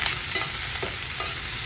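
Mixed vegetables frying in a pan for oats upma, a loud continuous sizzle close by with a few light stirring scrapes and no voices.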